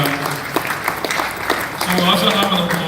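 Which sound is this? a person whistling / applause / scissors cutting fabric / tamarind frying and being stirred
applause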